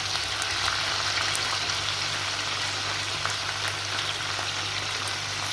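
Onion sizzles in hot oil with fried chicken, a dense, continuous crackling hiss close by with scattered sharper pops and no voices.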